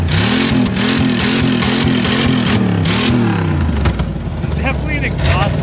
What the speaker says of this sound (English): Hey, put your foot on the gas there. Wide open.